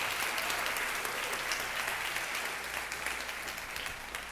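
A church congregation claps loudly and continuously throughout, a dense, sustained wave of applause that eases off slightly toward the end.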